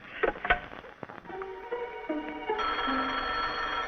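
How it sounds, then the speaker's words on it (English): An old-fashioned telephone bell rings in an indoor scene from a vintage television comedy, a sustained metallic ringing that starts after a few clicks and knocks and continues loudly to the end. "That's the phone. I'll be right back."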